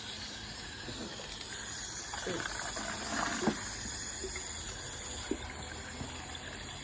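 Water is poured quart by quart into a bucket for preparing coco coir for seed starting, making a quiet, steady gushing rush with a few faint knocks from the container.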